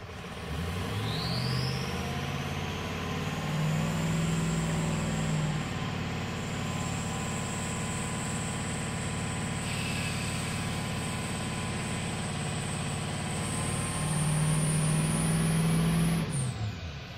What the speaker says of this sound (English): Let's see if I can rev it up and hurry this along.